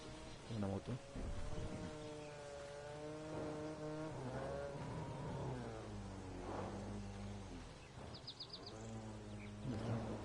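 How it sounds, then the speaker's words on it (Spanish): Motorcycle engine in the Fortnite battle royale video game, revving and accelerating in a wavering drone with shifting pitch, heard under ongoing talk and game sounds. "Una moto."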